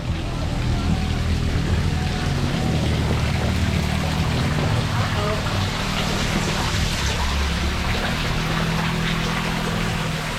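Constant splashing rush of a small waterfall falling inside a cave, close and fairly loud, echoing slightly off the enclosed rocky space.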